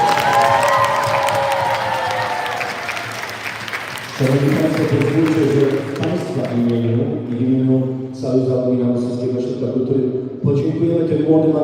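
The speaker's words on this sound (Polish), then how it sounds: "Wielkie, wielkie brawa." Audience applause and cheering at a live event, a crowd clapping loudly for a few seconds before a sustained vocal or musical tone takes over the rest of the span.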